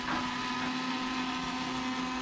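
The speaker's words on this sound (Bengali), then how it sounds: "তো এটা মিক্সিতে দিয়ে দিচ্ছি পিষে নিয়ে একবার" A kitchen mixer grinder whirs steadily and loudly as it grinds spices for a fish curry, a dense continuous motor drone with a steady hum running through it and no voices.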